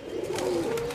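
A very young Dobaz pigeon chick gives soft, close cooing calls with a brief chirp, heard alone over about a second.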